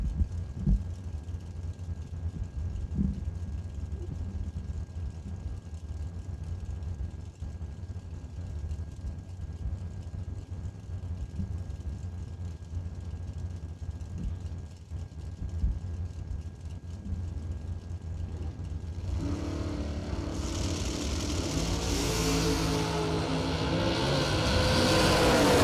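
A Corvette Roadster at a drag racing bracket event makes a steady, low engine rumble at a distance for most of the clip. Near the end it swells into a much louder, closer roar as the car launches.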